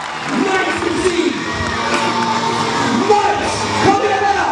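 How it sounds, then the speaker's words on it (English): A large crowd at a renaissance festival contest cheers and whoops loudly, a sustained roar of voices with shouts and yells rising in waves throughout. "And the crowd goes insane!"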